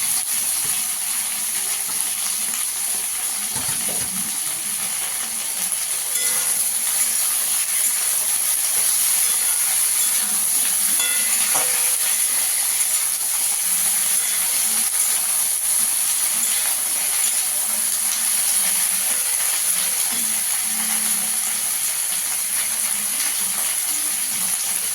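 Bottle gourd greens stalks frying in a pan, a continuous bright sizzling hiss that holds steady and fairly loud for the whole stretch, with faint stirring knocks and no talking.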